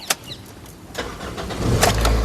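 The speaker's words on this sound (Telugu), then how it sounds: "ఈ కారు సింగిల్ సెల్ఫ్లో స్టార్ట్ అవుతుందా లేదా అన్న చూపిస్తున్నాను చూడొచ్చండి" A 2010 Toyota Corolla Altis G starting up on a single crank: a brief starter whir that catches quickly into a rising, steady engine idle, close and fairly loud.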